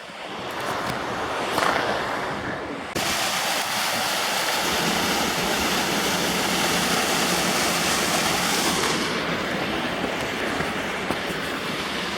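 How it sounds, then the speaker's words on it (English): A waterfall on the Shirley Canyon hike in Olympic Valley roars in a loud, continuous rushing wash, heard up close and alone with no break in the flow. "Another falls, ladies and gentlemen."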